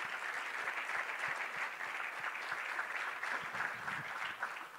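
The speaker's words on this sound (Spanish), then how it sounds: "Un aplauso para ese balón que vamos a ver" An audience at the presentation of the new Liga Femenina Endesa basketball season claps continuously and evenly, a dense steady applause lasting nearly five seconds.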